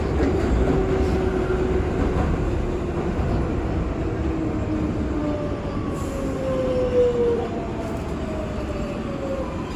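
A New York subway train, an R142A on the 6 local, rumbles steadily along the tracks, with high metallic wheel squeals rising and fading over the constant roar.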